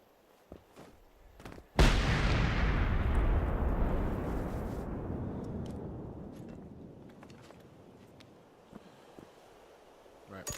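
Grenade exploding in the video game Generation Zero, one sudden loud boom with a long rumbling decay lasting several seconds, followed by scattered faint clicks.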